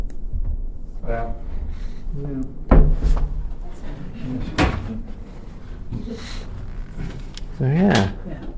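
A hotel room drawer slides and knocks shut several times, with sharp thuds and wooden scrapes spread out under ongoing talk.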